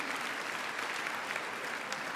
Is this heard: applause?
yes